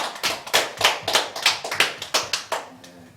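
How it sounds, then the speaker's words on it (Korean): Clapping in a church service, heard as a run of about a dozen sharp, evenly spaced claps at close range, fairly loud and with no talk over it. "우리 다시 한번 하나님께 영광의 박수 올려드리겠습니다"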